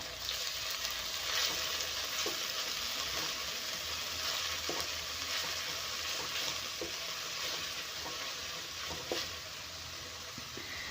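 Noodles with vegetables and garlic paste stir-fry in a pan over high flame, giving a steady, loud sizzle throughout with faint scraping clicks from stirring.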